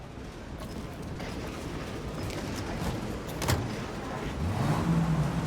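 A car driving in the video game Mafia Definitive Edition, a steady engine hum and road rumble under continuous noise, rising slightly toward the end with a brief mechanical clunk midway.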